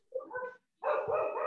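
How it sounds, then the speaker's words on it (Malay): A dog gives two short barks or yelps in quick succession, close and fairly loud, with a brief silence between them and no talking. "Anjing."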